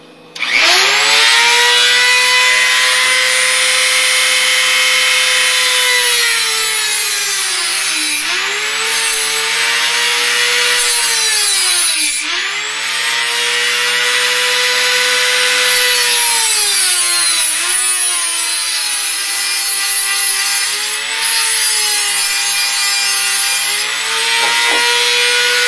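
Hacksaw blade steel is filed down to make lock picks, with long, slow strokes giving a steady, loud rasping scrape that glides up and down in pitch, continuous and close with no talking.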